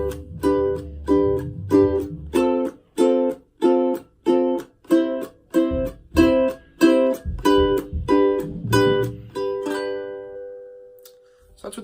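Ska-style guitar chords struck only on the upstroke of each off-beat, producing a steady run of around twenty short, evenly spaced chord stabs before a final chord rings out and fades.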